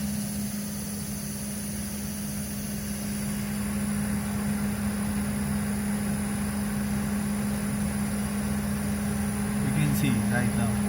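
An induction motor runs under steadily increasing load toward full load, giving a constant low hum with a faint high whine, while people talk over it throughout.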